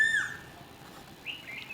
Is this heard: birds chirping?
yes